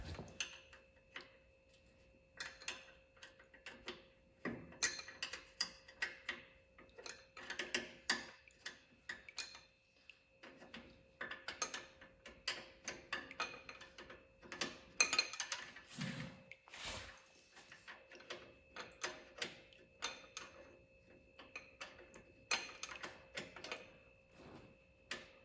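Wrench clicking and ratcheting against bolts on a 1949 Farmall C tractor engine, an irregular run of sharp metallic ticks and clanks with short pauses, close by, with a steady hum underneath.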